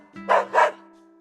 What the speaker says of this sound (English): My, what a spirited dog.